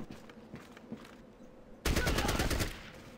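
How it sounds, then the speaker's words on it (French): Burst of gunfire in the video game Fallout Tactics, a loud dense rapid volley erupting suddenly after a quieter stretch of faint taps, lasting under a second before cutting off. "On a eu un coup de feu."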